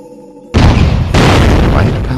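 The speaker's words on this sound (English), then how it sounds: "I call it the guided leg cannon. It is very powerful, but uses special ammo." Guided leg cannon firing in the PlayStation game Blood Will Tell, a sudden loud booming blast that breaks in after a quiet half second and is followed by a second heavy burst.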